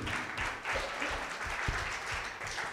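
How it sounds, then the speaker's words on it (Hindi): Church congregation at a Sunday service breaks into a steady burst of applause, dense overlapping claps filling the space at moderate volume with no speech over them. "एक बार जोरदार ताली प्रभु के लिए"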